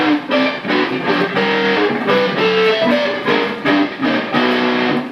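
A loud, heavily distorted electric guitar plays a fast, speed-picked fusion melodic line of sustained, gritty notes, ringing out alone with no voices.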